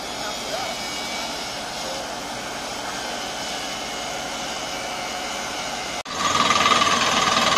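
Water well drilling rig boring through the ground toward bedrock on a bamboo garden and rice field, a loud continuous grinding engine roar with a brief dropout before resuming harder.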